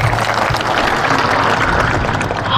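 A crowd applauding at a political rally in Khunti, Jharkhand, a steady loud wash of clapping for a few seconds with no break.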